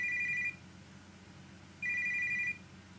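A telephone rings in an RPG Maker VX Ace game, two steady electronic trill bursts separated by a pause, clear and fairly loud over a low background hum.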